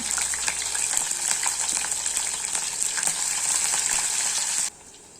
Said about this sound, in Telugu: నూనె బాగా వేడైన తర్వాత ఐదు పచ్చిమిర్చి కట్ చేసి వేసుకుంటున్నాను